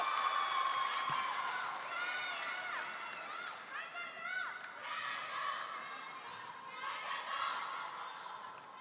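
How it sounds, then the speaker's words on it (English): A table tennis crowd at a Ma Long versus Fan Zhendong match at the Qatar Open chants and cheers in rising, rhythmic waves of many voices. It sounds somewhat distant and moderately quiet, with a commentator talking over it. "We got battle chanting in the crowds right now"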